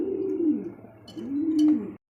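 A pair of pigeons gives two long, drawn-out throaty coos in a row, close and clear, with a brief pause between them and a few faint clicks near the end.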